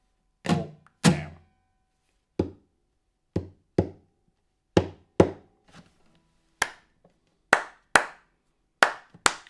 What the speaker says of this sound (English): I'm tapping and I'm clapping and I'm muting the strings